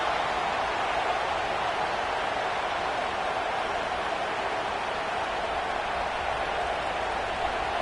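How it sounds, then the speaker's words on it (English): A steady, dense roar of a stadium crowd in an NCAA college football video game, a continuous broadband wash of cheering with no breaks and no voices standing out. "Listen to the crowd energy here in the early going."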